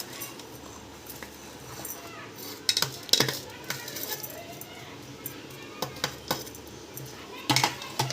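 Roasted coconut for idli chutney is scooped out of a mixer jar, giving scattered metallic clinks and scrapes over a quiet kitchen background.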